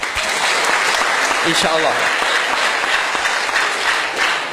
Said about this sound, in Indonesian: Tepuk tangan untuk pemerintah